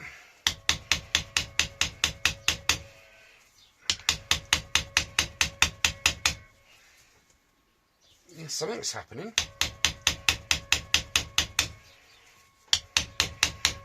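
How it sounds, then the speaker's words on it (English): A big hammer strikes to shock loose a stuck screw on a Suzuki FZ50 moped during restoration, delivered in rapid bursts of about a dozen sharp, ringing metallic blows each, separated by pauses, with brief talk between bursts. "I only really need to use the big hammer just to literally shock it"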